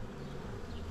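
Honeybees being poured into a hive body hum in a dense, steady, close buzz that fills the whole moment without pause or voices.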